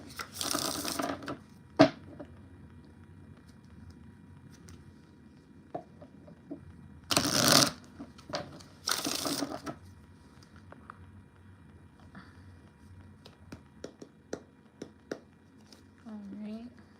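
A tarot card deck is shuffled during a live reading, giving short bursts of riffling card noise and a couple of loud flurries, with quiet pauses and small taps between them.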